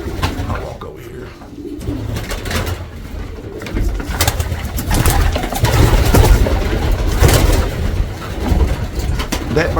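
Racing pigeons cooing inside a loft, steady soft cooing and fluttering throughout, with someone talking intermittently nearby.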